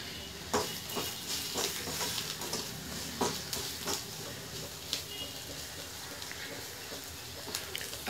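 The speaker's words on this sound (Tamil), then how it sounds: "கொஞ்சம் அந்த எண்ணெயில் வதக்கி விட்டுட்டு வதக்கிக்கோங்க." Onions sautéing in oil in a pan for an egg masala, a soft steady sizzle with scattered stirring scrapes and clicks at moderate level throughout.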